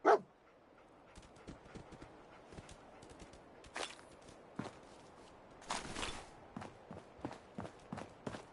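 Dog companion Dogmeat in the Fallout 4 video game tracking a scent, with scattered soft pawsteps, sniffing rustles and a couple of louder thumps over quiet game ambience, after a brief sharp sound at the start.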